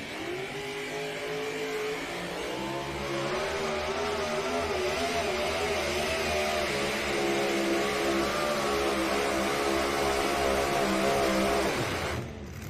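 A pulling tractor at an NTPA tractor pull in Rockwell, Iowa, its engine revving hard in a loud, sustained roar whose pitch climbs and wavers for about twelve seconds before cutting off abruptly.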